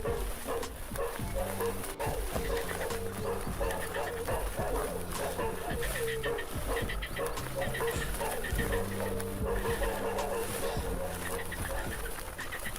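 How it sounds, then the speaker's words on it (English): Several dogs bark, yip and whimper in a dramatized story, sounding at a middle distance with repeated barks and birds calling behind them, while a voice narrates over the top. "Until we could no longer hear the dogs."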